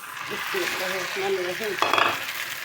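Fish fries in hot oil with a close, steady sizzle, broken near the end by a burst of sharper spattering and utensil scraping.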